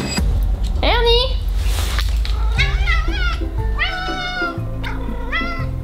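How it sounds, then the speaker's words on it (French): A cat meows repeatedly and close by, several rising and falling cries in a row with short gaps between them, over low indoor background noise. "ça va faire miau-miau bientôt"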